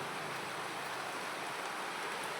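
Steady rain falls outdoors where cows stand, a continuous even wash of noise with no breaks and no speech.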